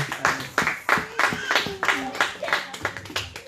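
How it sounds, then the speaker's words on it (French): A church congregation claps and applauds together in a dense, rhythmic burst of hand claps, close and loud, with voices calling out over the clapping. "On acclame très fort pour la parole de Dieu"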